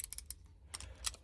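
A 72-tooth ratchet from a budget ratchet set gives quick, quiet clicks, a brisk run of light ticks, a short pause, then a few more, close and alone.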